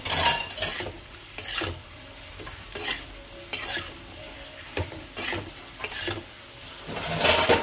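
Prawns are mixed with salt, chili powder and oil in a pan, producing repeated scraping stirs and soft sizzles in irregular bursts with occasional utensil knocks, close and fairly quiet.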